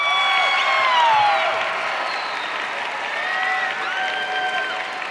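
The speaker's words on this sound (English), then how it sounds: "Give them a round of applause." Audience applause at a Wooster High School graduation ceremony, a broad steady clapping crowd with scattered cheers and whoops and raised voices mixed in throughout.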